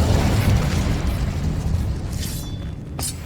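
Incendio fire spell blast in Hogwarts Legacy, a loud, continuous rumbling roar of flame that gradually fades, ending with a sharp bright burst near the end.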